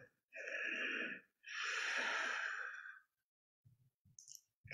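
Two long, deep exhales during a seated chair-yoga twist, breathy and close, each lasting about a second, followed by quiet and a few soft clicks.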